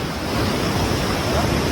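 The Kali river at Dharchula rushes in a steady, loud broadband roar, with wind buffeting the microphone.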